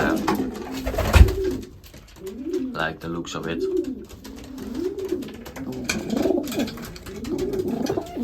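A racing pigeon coos repeatedly in a soft, rolling rhythm, close by, while someone talks briefly over it.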